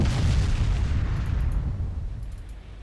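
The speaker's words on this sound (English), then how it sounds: "The big guns got this covered." Heavy battleship main guns fire in Ultimate Admiral Dreadnoughts naval combat, a loud booming broadside with a rumbling low roar that slowly decays over about three seconds, no voices.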